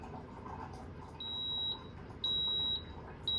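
Waffle maker beeping when the waffle is done, three high electronic beeps with pauses between them over a steady kitchen hum.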